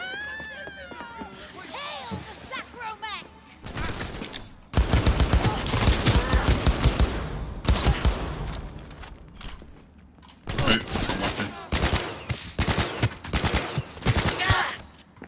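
Heavy gunfire in Cyberpunk 2077, loud sustained bursts of rapid shots arriving in several waves with brief pauses between, and a voice speaking in the quieter stretches.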